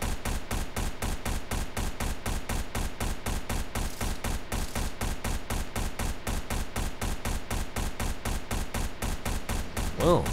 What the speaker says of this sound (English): Oh, he's shooting at something.